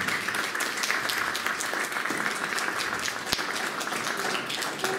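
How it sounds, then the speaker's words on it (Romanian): A crowd at a cultural centre event applauds with dense, continuous clapping that holds at an even level for about five seconds, with no talk over it. "vreau să-i aplaud"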